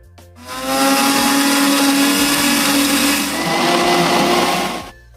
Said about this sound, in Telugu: వేసుకుని మిక్సీ చేసుకుందాం